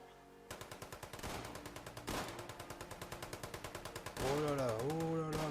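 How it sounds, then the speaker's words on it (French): Automatic gunfire in a military roleplay video game, a long run of rapid, evenly spaced shots emptying a full magazine, loud and close, with a rising tone near the end. "Et on tire tout son chargeur"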